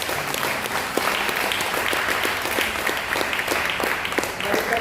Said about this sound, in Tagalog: Isa munang malakas na palakpak.